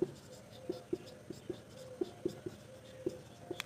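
Chalk or marker taps and strokes on a board during a maths lesson, a run of about ten short sharp clicks at an uneven pace, close and fairly quiet.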